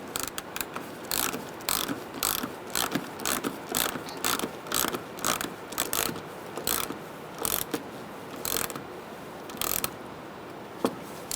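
A hand ratchet tightens a fastener on a 2010-2013 Kia Soul front bumper cover, giving quick bursts of rapid clicking strokes in an irregular rhythm, close and moderately quiet with no talking.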